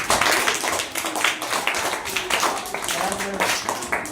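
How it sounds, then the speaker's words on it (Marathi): Schoolchildren in a classroom clap together in a dense, loud burst of handclaps, with children's voices and chatter mixed in throughout. "या समोर उभा असलेल्या सर्व विद्यार्थ्यांचं आपण 3 टाळ्या वाजवून अभिनंदन करायचे"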